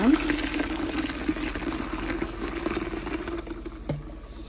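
Water pours into a pitcher of horchata mix in a continuous trickling stream, close and steady, with a brief clink near the end.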